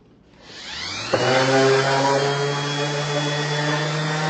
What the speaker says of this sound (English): I'm sanding now with 150 grit sandpaper